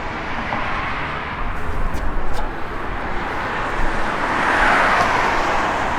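A 1970 Plymouth Road Runner drives down the road with a steady rumble of engine and tire roar throughout, swelling slightly toward the end, with no talking over it.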